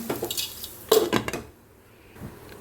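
Egg masala stirred in a pan, a burst of close metallic scraping and clanks of a spoon on the pan, then a quiet lull with one soft knock as a lid goes on.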